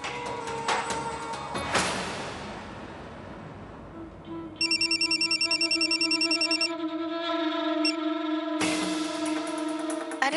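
A telephone rings with an incoming call, with a loud repeated electronic ringtone in bursts over a quieter musical background.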